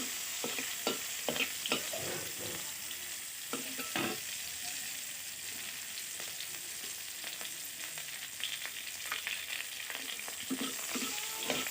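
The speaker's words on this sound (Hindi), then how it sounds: "इस तरह से आपको भी कुछ देर तक भूननी है" Vegetables roast and sizzle in a pan for a traditional gourd, herwa and tiwada dal dish, a steady frying hiss broken by repeated scraping stirs, close and alone without talk.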